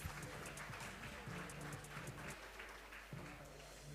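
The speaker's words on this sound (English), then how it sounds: "let us put our hands together for the panelists" An audience at a teachers' college research day applauds the panelists, a dense, steady patter of clapping that carries through the whole stretch at moderate distance.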